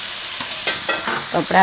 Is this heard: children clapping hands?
no